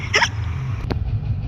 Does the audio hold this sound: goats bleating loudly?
no